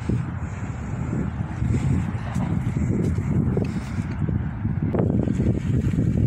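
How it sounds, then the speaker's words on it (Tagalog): Strong wind buffeting the microphone on the Sheikh Sabah Al-Ahmad Al-Jaber Al-Sabah causeway bridge, with a constant low rumble and gusty roar throughout, no voices heard. "Mahangin siya."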